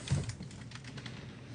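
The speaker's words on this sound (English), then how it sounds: "Look at him just fucking typing away." Rapid typing on a computer keyboard, a quiet, steady patter of key clicks heard alone at low level.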